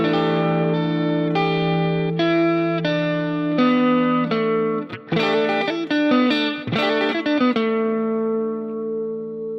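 Electric guitar with chorus, reverb and echo effects plays a neo soul chord then runs down a scale with hammer-ons, notes ringing and overlapping before a long sustained fade, clear and close.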